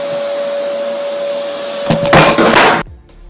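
Schtaer SCH-02-150 orbital sander with a 150 mm pad and magnetic brake runs with a vacuum dust extractor, a steady loud whining hum that surges into a rougher roar briefly before stopping.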